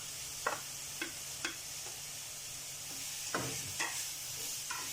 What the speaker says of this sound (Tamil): ஃபஸ்ட்டு சட்டி நல்லா சூடாகவுடனே ஆனியனை சேர்க்குறேன்.